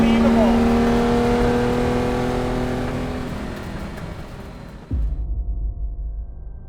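A 1965 Ferrari 250LM race car's engine at speed, a loud, sustained high-pitched roar that fades steadily before a sharp shift to a lower, rougher note.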